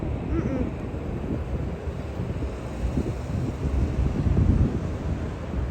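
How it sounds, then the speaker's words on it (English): Airplanes at Miami airport produce a broad, distant roar that builds slightly toward the end, mixed with wind buffeting the microphone outdoors. "Well, these airplanes are not too loud."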